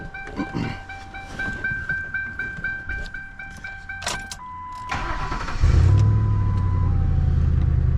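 A 2000 Lincoln Town Car Cartier L with a 4.6 engine: chimes and clicks first, then the starter cranks briefly and the engine catches and settles into a loud, steady, low idle.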